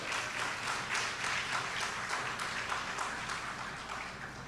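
A round of applause from the audience at the Caribbean Broadcasting Union annual general assembly opening ceremony, dense continuous clapping from a large crowd, fairly distant and even, slowly fading toward the end.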